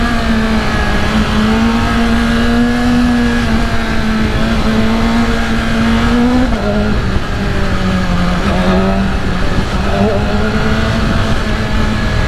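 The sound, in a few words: motorcycle with replaced muffler riding in traffic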